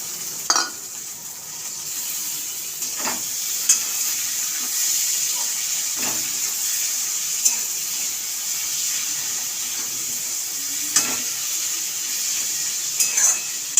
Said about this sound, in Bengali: এবারে কিমাটা দেব